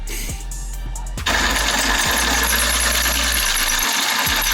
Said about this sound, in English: this bolt is completely stripped out, so I'm gonna have to drill that out